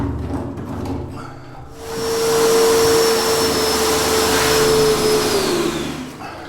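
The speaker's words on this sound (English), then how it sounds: "I can only get so much done with the shop vac" Shop vac sucking up tainted water from a cistern, starting with scattered clunks then ramping into a loud, close, steady roar with a high whine that holds for several seconds before easing off, no voices.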